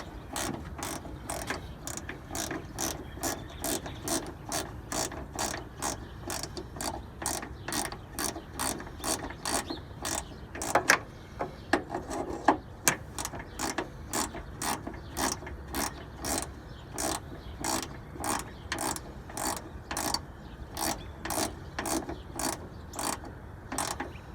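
A hand ratchet tightens bolts while a radiator goes in, making a close, rapid, very regular clicking that runs almost nonstop, with one brief pause and a couple of sharper knocks midway.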